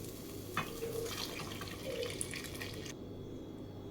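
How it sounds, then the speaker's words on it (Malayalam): About half a litre of milk pours into makhana kheer in a pot, a soft steady liquid gush that runs for most of the moment and then stops, with no talking. "ഏകദേശം ഒരു 1/2 ലിറ്ററോളം പാൽ ഒഴിച്ചിട്ടുണ്ട്."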